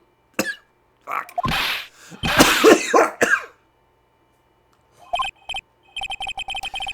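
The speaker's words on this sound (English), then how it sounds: "try not to give me that cough of yours, okay? Sounds a bit too realistic." A character in the video game Phoenix Wright: Ace Attorney coughing, several harsh, close coughs and throat-clearing bursts, followed after a pause by short chirping electronic ringing tones.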